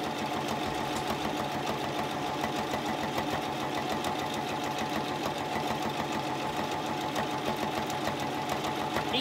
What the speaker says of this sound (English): sew down the length